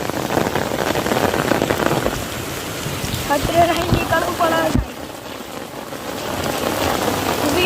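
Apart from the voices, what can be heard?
heavy rain falling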